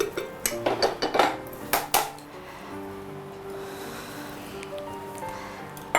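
A white chocolate pudding is turned out of a round bowl onto a serving plate, with a quick series of clinks and knocks of dishware, then a quiet, steady background hum.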